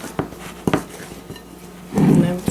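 Stiff apple cake batter stirred in a bowl, with a few sharp clinks and scrapes of the utensil against the bowl, then a louder, denser scraping burst near the end.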